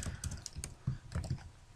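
Computer keyboard typing HTML code, a quick run of close, crisp keystrokes with uneven rhythm, nothing else heard.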